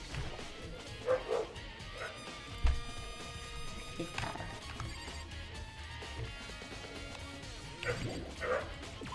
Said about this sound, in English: the dog's bark scares me